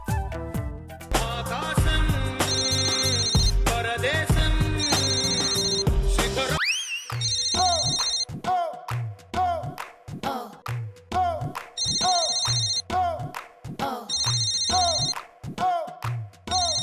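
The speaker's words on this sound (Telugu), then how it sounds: "అయ్యో ఫోన్ మోగిపోతుంది," A phone ringtone sounds in repeated short melodic bursts with brief gaps, loud and close, after a stretch of busier tonal music.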